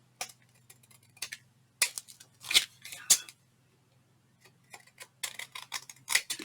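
Scissors trimming excess card off a paper craft, several short crisp snipping bursts in uneven clusters with quiet pauses between, close and clear.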